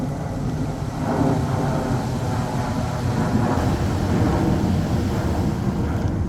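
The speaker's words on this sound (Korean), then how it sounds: "시끄러운 비행기 소음이 들려오면" A loud airplane passing low over an urban park in Seoul, a broad rumbling roar that swells and holds steady with no talking.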